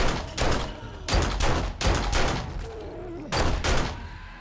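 Gunfire in the video game 7 Days to Die: several heavy bursts of shots in irregular clusters, loud and close, with echoing tails between volleys.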